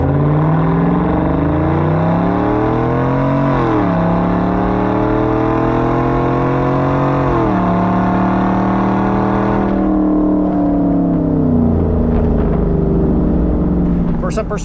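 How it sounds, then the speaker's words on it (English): Chevrolet Silverado pickup fitted with Kooks long-tube headers accelerates hard from a foot-braked launch, its loud engine and exhaust climbing through rising revs with shift dips at about 3.5 s and 7.5 s before easing off. "With our first 0 to 60, just to simply see if we get faster after the Longtube Headers or not."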